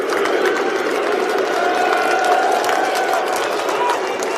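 Stadium crowd roaring as the England football team comes out to warm up: a dense, continuous wall of cheering and chatter from many voices, loud and sustained throughout.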